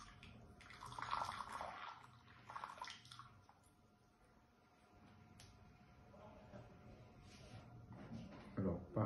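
Near-boiling water is poured over tea cups and a teapot to warm them, producing soft splashing and trickling pours in several bursts, quiet and close, with a pause in the middle.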